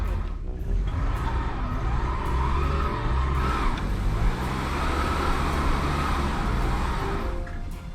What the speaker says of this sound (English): Making good burnouts.